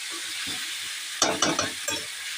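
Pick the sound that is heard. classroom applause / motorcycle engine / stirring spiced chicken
stirring spiced chicken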